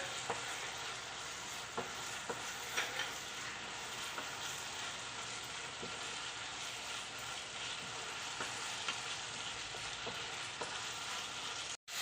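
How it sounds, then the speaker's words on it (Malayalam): A cooking mash of small bananas with cardamom powder sizzles steadily in a pan, with occasional soft stirring scrapes and taps, close and continuous with no talking, cutting off abruptly at the end. "ഏലക്കാപ്പൊടിയും കൊടുത്ത് ചേർത്ത് കൊടുത്തതിന് ശേഷം നല്ലതുപോലെ മിക്സ് ചെയ്ത് കൊടുക്കുക"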